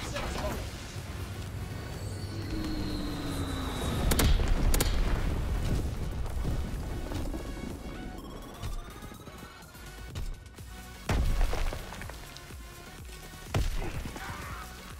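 In the Call of Duty WW2 bombing run killstreak, heavy booming explosions land one after another in a loud, dense barrage, with deep blasts and crashing impacts under game noise and someone talking over them.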